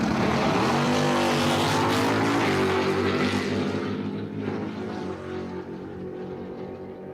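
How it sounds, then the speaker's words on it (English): Drag racing cars rolling into the burnout box, a 1969 Dodge Dart and a stock automatic Malibu wagon, give a loud, sustained engine roar with rising revs that slowly fades, with no talk over it. "Coming into the burnout box, Mike McGrath in the McGrath Racing 69 Dodge"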